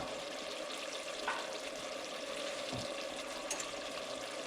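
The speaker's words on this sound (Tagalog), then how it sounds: "ilalagyan na natin yung 1 litro ng tubig" One liter of water poured into a pot of beef pares, a steady close splashing and hissing over a faint sizzle, running continuously without talk.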